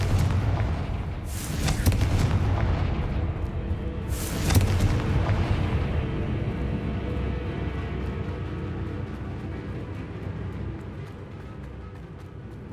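Confringo fire-blast explosions in the Hogwarts Legacy video game, two sharp loud bursts about three seconds apart, each followed by a rumbling decay over a dense, noisy ongoing game soundscape.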